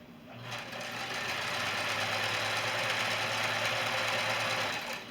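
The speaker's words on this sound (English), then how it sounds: "I just keep sewing until I get back to my 1/2 inch seam allowance here" A sewing machine stitches a seam on a quilted scarf made from a fat quarter, its motor humming in one close, continuous run that rises quickly and stops near the end.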